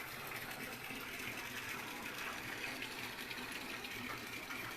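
Water running steadily for Sonali hybrid chickens on the second floor of a poultry farm, a continuous gushing wash that stays even throughout.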